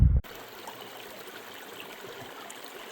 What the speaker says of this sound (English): I hear water flowing